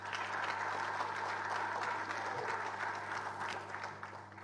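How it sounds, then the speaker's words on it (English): Steady applause from the audience at the Elective Congress of the Ghana Football Association, a dense wash of many hands clapping at moderate distance, holding level and then easing slightly near the end. "Let's clap for them, please."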